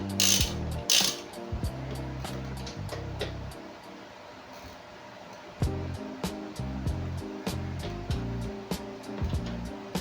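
A ratchet wrench tightens a nut on the rear suspension of a Yamaha Aerox V3 scooter, with rapid close clicking in several bursts separated by brief pauses.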